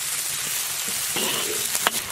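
Pork, potatoes, carrots and tofu stir-fried together in a wok, a steady close sizzle broken by a few scraping stirs and soft clatters toward the end, with no one speaking.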